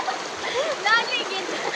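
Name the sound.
people swimming and splashing in a cold spring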